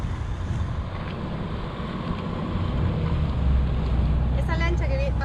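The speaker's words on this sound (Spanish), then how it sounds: "Esa lancha que pasa atrás mío es una lancha colectivo" A motorboat water bus drones past steadily in Tigre, Buenos Aires, its engine rumble swelling slightly as it nears, with wind and lapping water around it and a brief voice at the end.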